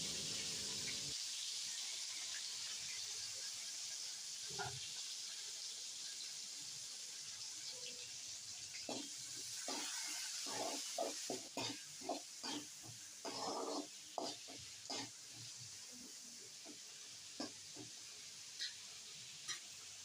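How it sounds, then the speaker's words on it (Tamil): Onions and curry leaves sizzle and hiss in a hot pan while a utensil stirs and scrapes in irregular bursts, close and fairly quiet. "ரெண்டு பெரிய வெங்காயம் கொஞ்சமாக கருவேப்பிலை போட்டு நல்லா வதக்கிக்கலாம்"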